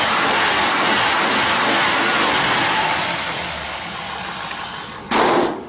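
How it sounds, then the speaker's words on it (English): A 1958 Chevrolet Apache pickup with a 327 small-block V8 and headers revs loudly up close, the roar easing off toward idle before a sharp burst near the end. "Just rev it up here a little bit."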